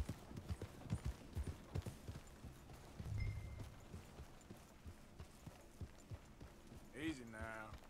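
Horse hooves clip-clop at a steady walking rhythm in Red Dead Redemption 2, moderately close and continuing for several seconds, with a low rumble near the middle and a brief higher animal or vocal sound near the end.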